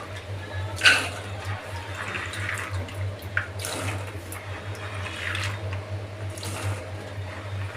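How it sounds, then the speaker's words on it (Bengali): Water pouring into a cooking pot of soaked chickpeas on a stove, a close, uneven splashing flow that rises and falls over a low steady hum. "আমরা পর্যাপ্ত পরিমাণ পানি দিয়ে দিলাম।"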